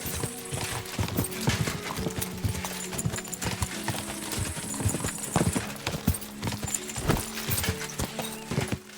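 Horse hooves gallop in a rapid clip-clop rhythm during mounted travel in the video game Kingdom Come: Deliverance II, loud and continuous with no talking.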